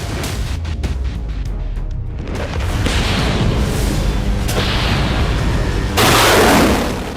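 Heavy explosions boom and rumble one after another as a weapons depot is destroyed by missile strikes in Zaporizhzhia, Ukraine, with a sharp loud blast near the end, distant and powerful.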